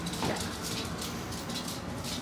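A dog left at home before its owners head off to the beach whimpers and whines softly up close, a brief, thin plaintive sound with no one talking.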